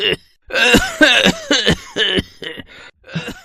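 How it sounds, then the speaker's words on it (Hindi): A person coughing repeatedly and hard, a rapid series of harsh bursts close by with brief gaps between them. "सुबह जब उसकी नींद खुली तो वो जोर जोर से खांस रहा था।"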